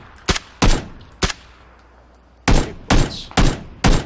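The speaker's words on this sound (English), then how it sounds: "You gotta keep shooting him." Repeated gunshots from a shooter video game, about eight loud, sharp cracks at irregular intervals, some close together, with no talk over them.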